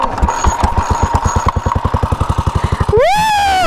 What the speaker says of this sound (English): I started off my first 1933 motorcycle.